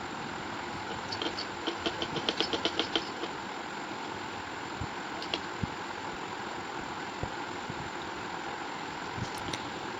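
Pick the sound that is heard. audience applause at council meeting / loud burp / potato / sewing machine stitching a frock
sewing machine stitching a frock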